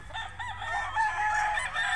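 A rooster crows loudly and at length, with other chickens clucking around it in an open outdoor setting.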